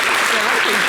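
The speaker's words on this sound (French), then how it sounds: "On peut applaudir pour Pierre, s'il vous plaît?" Dense audience applause, loud and continuous, from a crowd clapping together.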